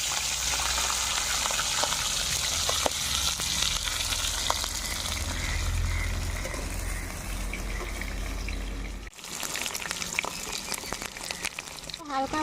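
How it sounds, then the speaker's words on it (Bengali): Prawns lightly frying in hot oil in a wok produce a continuous close sizzle with crackles, which dips briefly before resuming strongly. "মাছগুলো হালকা করে ভেজে নিচ্ছি।"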